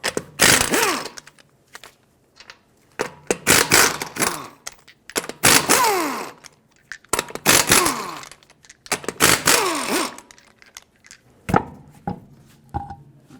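A power tool loosens the wheel lug nuts on a Dodge Grand Caravan with a 19mm socket, producing five loud, close, buzzing bursts separated by short pauses and ending with lighter rattles.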